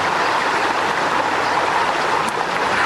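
A swollen, flooded river surges steadily in a continuous broadband roar of rushing water, loud and close with no pauses or voices.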